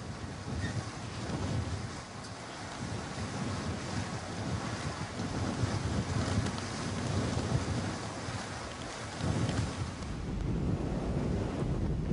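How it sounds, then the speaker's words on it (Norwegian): Hurricane-force storm wind roaring across a boat harbour at Vågshavn on Lista, Norway, with waves surging beneath; a loud, continuous buffeting rumble heavy on microphone wind noise, swelling in gusts. "I de verste orkankastene lørdag var det vanskelig å stå oppreist i båthavna på Vågshavn på Lista."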